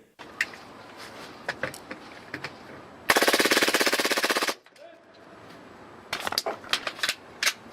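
A Tokyo Marui gas blowback airsoft pistol fires on full auto: one rapid, loud burst of closely spaced cracks lasting about a second and a half, framed by scattered clicks and handling knocks before and after.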